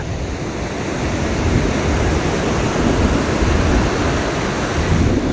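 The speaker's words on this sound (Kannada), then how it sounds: "ನೋಡ್ತಾ ಇರ್ಬೋದು ಇದು ಅಲೆಗಳು" Ocean waves at Arambol beach in Goa, a steady loud wash of surf with continuous broadband roar and slight wind buffeting on the microphone, no voices.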